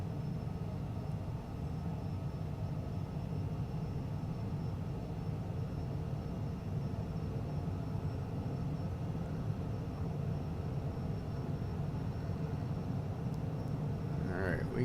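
Aircraft taking off in Microsoft Flight Simulator, a continuous engine drone with low humming tones holding steady throughout, with voices talking faintly alongside.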